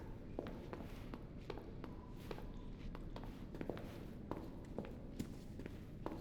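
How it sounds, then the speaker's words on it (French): The player character's own footsteps in the Resident Evil 2 Remake sound as soft, steady treads at a walking pace, quiet and close over a dark, rumbling ambient bed. "j'ai peur de mes bruits de pas à moi"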